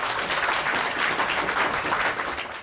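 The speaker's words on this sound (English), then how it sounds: "Please welcome Mr. Rizk to the lectern with a huge round of applause." A gala dinner audience breaks into dense, continuous applause welcoming a speaker to the lectern, loud and sustained for a few seconds with no talk.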